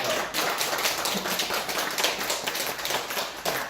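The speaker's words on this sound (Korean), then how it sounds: "여러분 박수 한번 쳐주시죠" A congregation at a religious service applauds steadily, dense clapping from many hands that continues throughout at a moderate, even level.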